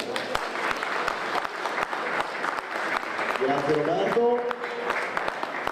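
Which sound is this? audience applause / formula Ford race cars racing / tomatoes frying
audience applause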